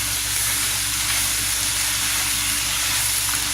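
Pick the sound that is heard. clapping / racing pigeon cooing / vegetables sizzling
vegetables sizzling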